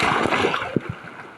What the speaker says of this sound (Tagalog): Ang lakas ng hampas ng alon